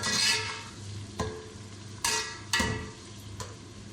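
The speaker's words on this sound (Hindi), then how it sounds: "इसको हम हल्का फ्राई कर लेंगे" Food lightly fries in mustard oil with a steady soft sizzle, broken by a few sharp scraping stirs of a spoon against the pan, close and fairly quiet, no voices.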